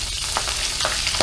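Food fries in a pan with a dense, constant sizzle and crackle, loud and close, with a few brief stirring or scraping touches.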